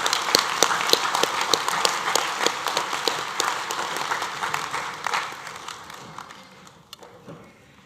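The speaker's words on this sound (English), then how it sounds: "Can we have a final round of applause for Matamata and Waihi?" A graduation ceremony audience claps for about eight seconds, a dense, steady round of applause that slowly thins and fades to a few scattered claps at the end.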